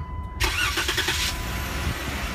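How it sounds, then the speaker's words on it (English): A Jeep Wrangler engine is started by remote start: a short cranking burst catches and settles into a steady, close idle. "Car will crank right up."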